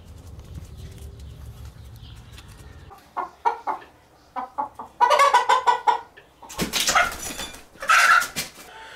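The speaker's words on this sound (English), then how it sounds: "roosters." Chickens clucking in the Until Dawn video game, a burst of sharp, close bok-bok clucks in rapid rhythmic clusters that grow louder toward the end, following a low rumbling start.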